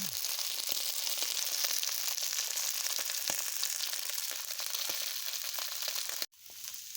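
Strips of beef steak sizzle and fry in a hot pan for a stir fry, a steady, loud hiss that runs without a break until it cuts off abruptly near the end.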